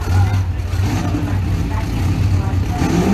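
A 1990 Camaro drag car engine rumbles steadily on the tower, a loud, low continuous rev with little variation, with a voice talking over it.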